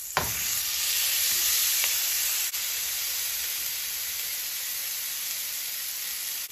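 Trout fries in a pan with a loud, continuous hiss and crackle and a sharp pop or two at the start, the sizzle staying close and steady throughout.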